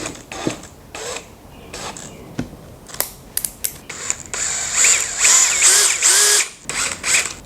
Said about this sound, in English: I'm just gonna put it on my drill.